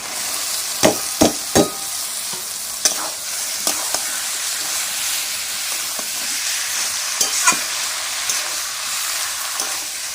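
Boiled banana flower and potato are tossed into prawn masala in a pan, giving a steady frying sizzle punctuated by sharp scraping knocks of a spatula stirring, close and continuous.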